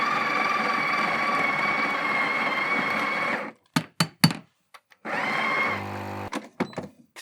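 A Sage (Breville) Barista Express Impress grinds coffee in a loud, steady whir for about three and a half seconds, then stops; a few sharp knocks and clicks follow before a second shorter grinding burst and more tapping.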